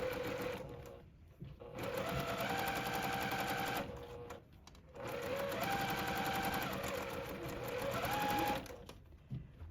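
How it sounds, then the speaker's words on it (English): A sewing machine stitches fabric pieces of a quilt block in steady whirring runs, with a rapid mechanical chatter that pauses briefly between bursts. It sounds close and even throughout, with no talking over it. "you just pinch those fabrics together and sew right off the edge"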